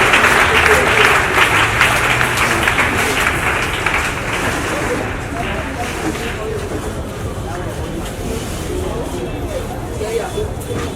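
A church congregation applauding loudly and continuously, dense clapping mixed with crowd noise and voices that eases slightly toward the end.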